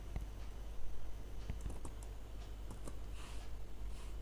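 A computer keyboard is typed on with quick, scattered clicks of keys, faint over a low background hum.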